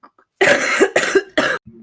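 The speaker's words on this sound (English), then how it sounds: "I just had a coughing fit then" A short coughing fit: three harsh, loud coughs in quick succession, close to the listener, with a brief throat sound at the end.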